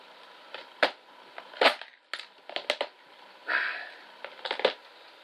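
Wire is snipped with the cutters on needle nose pliers while making a homemade nipple wrench, several sharp close clicks and crunches spaced irregularly, with faint handling noise between.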